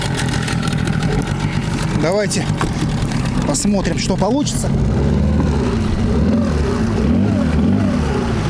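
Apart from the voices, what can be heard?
outboard motor on Flagman 380 boat revving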